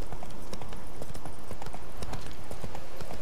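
Horse hooves clip-clopping steadily at a slow riding pace in The Witcher 3, a close, continuous rhythm of beats crossing a battlefield path, with faint game ambience underneath.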